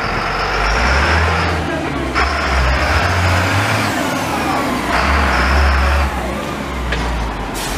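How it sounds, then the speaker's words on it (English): An older Freightliner FL truck revs on a windy city street in Montreal's Ville-Marie borough, its loud engine rising and falling in several surges with a hiss in between, close by. "That's how a truck is supposed to sound."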